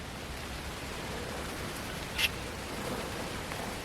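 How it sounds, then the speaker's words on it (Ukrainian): Light rain falling in a deserted forest, a soft, even patter with a faint brief tap midway and no voices. "починається легенький дощик."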